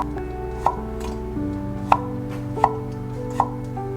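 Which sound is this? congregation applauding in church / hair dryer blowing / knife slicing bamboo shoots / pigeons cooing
knife slicing bamboo shoots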